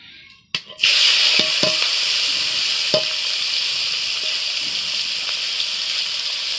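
Prawns frying in hot oil with salt and turmeric, giving a loud, continuous close sizzle that bursts in suddenly and holds steady, with a few faint clinks of utensils.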